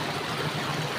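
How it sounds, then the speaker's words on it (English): A village stream flows in a constant, close rushing wash of water, steady and fairly loud, with no voices. "enjoy the beautiful sound the waters give when"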